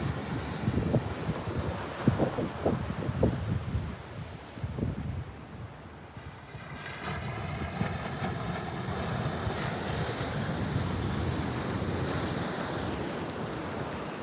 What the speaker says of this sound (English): Finally, we've got some good waves.